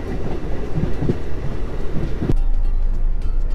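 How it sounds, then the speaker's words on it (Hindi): A DMU local train rumbles steadily as heard from inside a second-class carriage on the India–Nepal route, with a broad low roar, some faint clattering, and a sudden shift in tone near the end. "तो ये लोकल ट्रेन ही DMU ट्रेन है"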